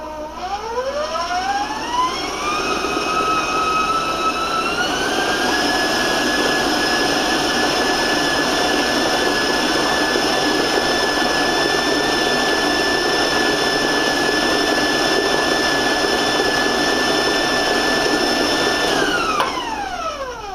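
A stand mixer's loud, steady motor whine ramps up in pitch over a few seconds while mixing cake batter, holds a constant high-speed drone, then winds down at the end.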